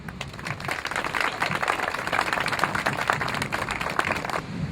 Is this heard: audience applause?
yes